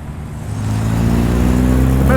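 A Holden Monaro street car leaving a car show in Tempe, Sydney, drives past with a steady, beefy engine rumble that grows louder as it approaches and stays close and prominent to the end.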